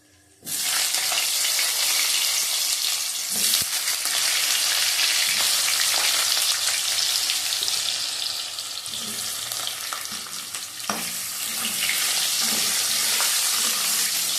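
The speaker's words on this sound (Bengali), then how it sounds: "ভালো করে ভেজে নেব।" Boiled, cut potatoes fry loudly in a pan, a dense continuous sizzle that starts abruptly and holds steady, with occasional utensil knocks.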